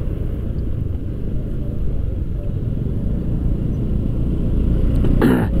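Steady low rumble of congested road traffic heard from a motorcycle in Bandung at a roadworks jam, constant engine drone and wind noise close to the rider, with a brief sharp rattle near the end.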